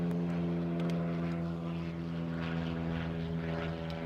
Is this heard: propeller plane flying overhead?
yes